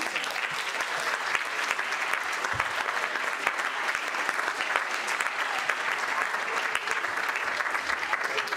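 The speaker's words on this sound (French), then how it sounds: "Je vous demande d'applaudir très fort le magnifique, le génial et le superbe Constantin Ruiz." An audience at a concert of Prokofiev's Peter and the Wolf applauds the orchestra conductor, a steady, crowded clatter of clapping that holds evenly throughout.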